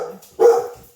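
A single close dog bark rings out sharply after a softer yip, loud and brief against a quiet room.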